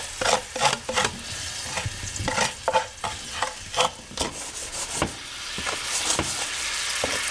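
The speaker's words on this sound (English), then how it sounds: "Let those onions get, the garlic get a little bit brown" Onions and garlic sizzle in melted butter in a pan while a spoon scrapes and stirs, with sharp repeated clacks over a steady hiss that grows more continuous toward the end, close and moderately loud.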